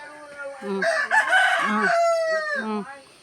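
A rooster crows loudly and close by, a drawn-out cock-a-doodle-doo call with a few clucking notes.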